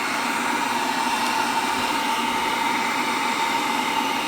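A heat tool blows steadily on the bottom of a bait cooler, giving a continuous, even airy whoosh with a faint tonal hum throughout, close and alone with no talk.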